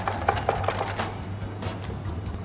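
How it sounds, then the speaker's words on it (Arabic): A whisk beats egg yolks and sugar in a bowl, giving quick, rhythmic clicking strokes that soften over time above a low, steady background hum, with no voices. "غناخدو اون باسين نخلطو فيها صفرة البيض والسكر سمول ولا بودرا كريم"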